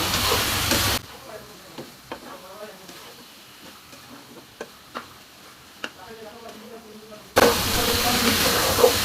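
Marinated chicken fries with spices in oil, opening with a loud sizzling hiss, then quieter stretches broken by scattered stirring clicks and taps. Loud sizzling returns near the end, and a voice can be heard at times.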